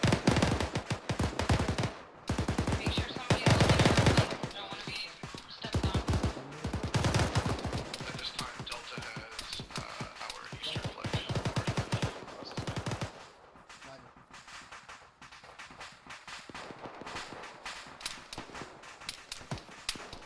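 Loud bursts of rapid automatic gunfire in an Arma 3 battle, with a long continuous volley that then eases into quieter, scattered shots.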